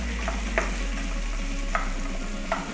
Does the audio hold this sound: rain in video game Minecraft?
no